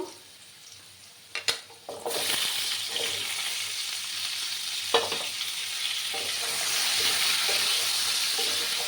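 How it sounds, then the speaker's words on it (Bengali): Potatoes and pumpkin pieces frying in a pan while being stirred, a loud steady sizzle with clattering utensil scrapes and a few sharp knocks near the start. "দেখো বন্ধুরা, আবার আমি নাড়াচাড়া করে দিলাম।"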